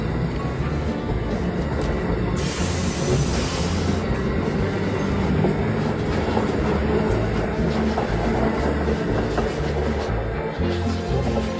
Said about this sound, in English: the train is going. It's going. And it's gone.